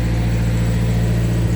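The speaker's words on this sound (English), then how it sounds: "Sorry for that noise. Walk by this semi truck at McDonald's." A semi truck's diesel engine idles close by at a fast-food stop next to a gas station, a steady low rumble with strong bass harmonics holding level throughout, with no voices.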